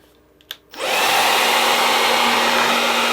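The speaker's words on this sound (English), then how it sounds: "I'm gonna try to dry my hair for about an hour" A hair dryer clicks on after a couple of small handling knocks, then roars steadily at full power, blowing hot air to dry hair, with no talking.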